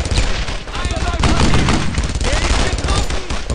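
Rapid covering machine-gun fire with mixed gunshots in the WWII shooter Brothers in Arms: Earned in Blood, a loud continuous rattle of bursts filling the whole stretch, with voices talking faintly underneath.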